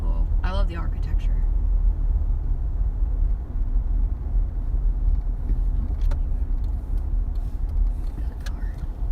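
A car passes on a rural road near a low stone bridge, a steady broad engine and tire rumble close by through most of the stretch, with a brief voice early on.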